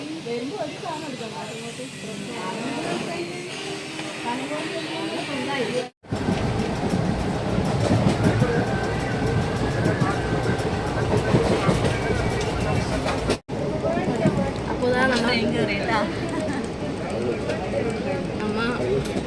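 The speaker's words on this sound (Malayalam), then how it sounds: "ആടെ നിന്നപ്പോൾ ട്രെയിൻ ഇങ്ങോട്ടേക്ക് നിർത്തി" A train pulls into Nileshwaram railway station in Kerala, its loud rumble, hiss and clatter filling the whole stretch with brief breaks, while people talk over it.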